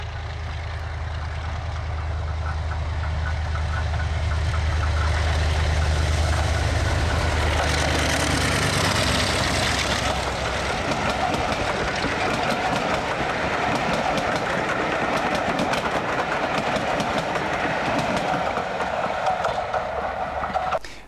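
Two Class 37 diesel locomotives double-heading a train on the East Lancashire heritage railway rumble past, a deep engine throb swelling and then giving way to rolling wheel and carriage noise with clickety-clack, no voices.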